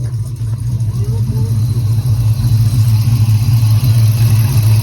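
A Dodge Challenger R/T V8 fitted with a Diablo tuner idles steadily after starting, a loud, close, deep rumble with a light lope that holds constant, smoking after a coolant reservoir cleaning.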